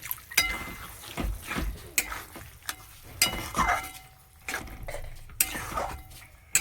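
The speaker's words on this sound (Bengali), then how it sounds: "হালকা জল দিয়ে দিচ্ছি, মশলাটা যাতে না পুড়ে যায়।" Masala spices cooking in a pan just after a splash of water, with stirring scrapes and clinks of a utensil against the pan over a low background sizzle, in irregular bursts close by.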